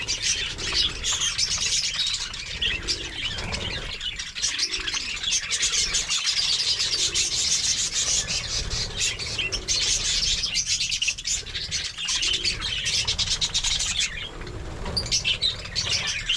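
Many parakeets chirp and tweet continuously in a dense chorus, with occasional wing flapping and squawks mixed in, fairly close and steady throughout.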